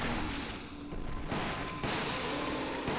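Rapid gunfire in Umbrella Chronicles, a dense, loud fusillade of overlapping shots running continuously with brief breaks, no talk.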